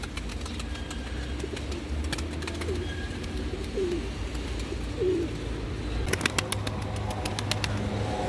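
Tumbler pigeons coo softly outdoors under steady ambient noise, then a burst of wing flapping erupts near the end as birds take off.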